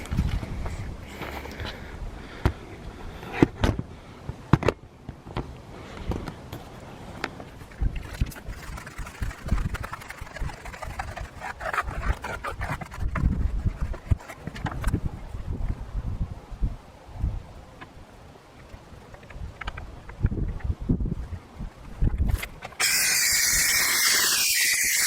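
A car wheel is scrubbed and rinsed, with broadband spray hiss and splashing water alongside brush scrubbing. The washing is fairly loud and continuous, and a strong burst of spray comes near the end.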